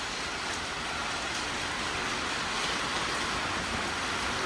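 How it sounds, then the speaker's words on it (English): Steady rain hisses evenly without a break, a soft, constant wash of patter with no voices. "It's raining, man."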